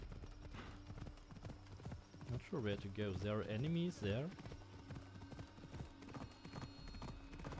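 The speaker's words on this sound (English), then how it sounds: "Where's my horse?" Phobos, a horse in Assassin's Creed Odyssey, gallops with rapid, steady hoofbeats and gives a loud whinny midway, with a voice speaking over the riding.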